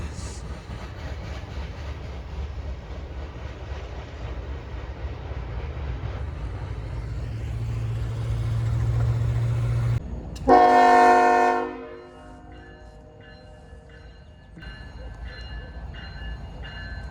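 A CSX freight train rumbles past close by, swelling in volume before a loud blast of the multi-tone horn, then the rolling rail noise fades to a low rumble.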